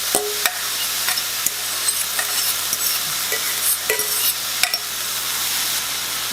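Garlic, onions and red pepper cook in a meat spaghetti sauce with a steady bright sizzle, punctuated by regular clinks and scrapes of a spoon stirring the pot.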